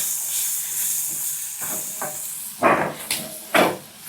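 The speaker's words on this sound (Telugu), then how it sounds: "బీన్స్ వేసాం కదా, ఇది మంచిగా ఫ్రై చేసుకోవడమే" Cut green beans sizzle in a hot pan, a steady bright hiss with a few louder spatters and stirring scrapes near the end.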